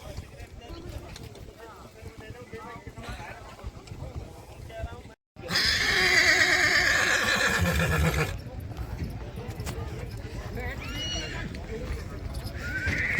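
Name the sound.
horses galloping and neighing in a horse race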